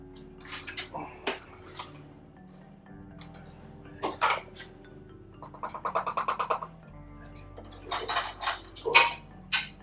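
A measuring cup and utensils clink and rattle while canned diced tomatoes are measured out in a home kitchen. Bursts of close knocks and scrapes arrive irregularly, with quiet gaps between them.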